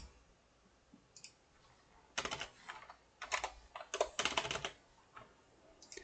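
Clicky keystrokes on a computer keyboard while a file gets renamed in Google Drive, sparse taps at first and then denser bursts of typing, close and fairly quiet.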